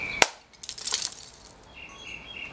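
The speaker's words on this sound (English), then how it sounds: "It was all sugar breakaway Hollywood glass" A sugar-glass prop bottle, the breakaway kind used in movies, smashes on a head with one sharp crack, then scattered tinkling shards fall and clink for about two seconds.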